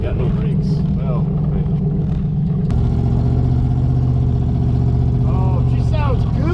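A 1974 Chevy Camaro 305 V8 with a hogged-out cam idles loudly and lopes close by, then settles into a steadier, deeper run partway through, with voices talking over it.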